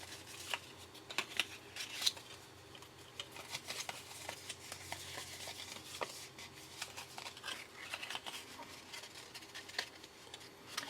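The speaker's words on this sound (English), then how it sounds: "Now I'm going to fold this on the score lines." Paper card folded along score lines on a craft table, heard as soft, faint creases and crinkles with occasional light taps and rustles close by, no voice.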